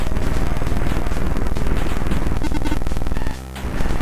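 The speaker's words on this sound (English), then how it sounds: "so I get a machine gun of sorts" A machine gun fires in the retro-style driving shooter Night Jackal, a dense, loud, continuous rattle mixed with game sound that drops out briefly just before the end.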